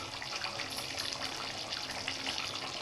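Water pours in a steady, even gush into a pot of mutton gravy curry, lasting about three seconds at moderate volume with no voices.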